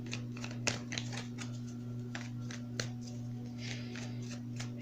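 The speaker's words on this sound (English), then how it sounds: "I'm going to pull a couple more cards because I'm really intrigued about this." Tarot cards being shuffled and pulled by hand: soft, close riffling and flicking clicks in irregular bursts over a steady low electrical hum, with no talking.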